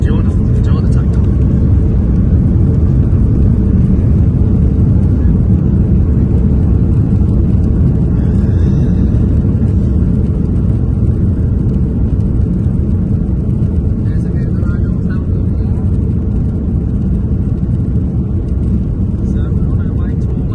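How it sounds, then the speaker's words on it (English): A passenger airplane's engines roar through the takeoff roll, a loud, steady broadband rumble that stays close and constant throughout, with a voice talking faintly underneath at moments. "enjoy the takeoff"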